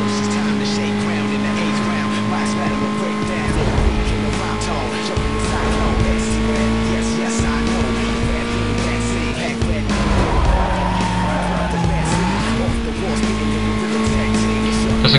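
A Chevrolet Cobalt SS races along main roads in Need for Speed: Most Wanted, its engine holding a steady loud drone that dips and climbs as the gears shift, with tyre and road noise continuing throughout.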